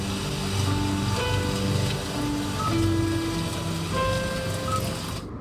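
A Kia Sportage infotainment system plays a rainy-day ambience, a soft steady patter of rain with faint tonal hums. It plays quietly and evenly throughout, then cuts off at the very end.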